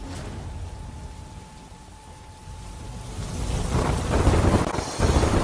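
Heavy monsoon rain pours down in Navsari, Gujarat, as strong wind gusts against the microphone. It is a dense, steady wash that swells louder toward the end, with no voices.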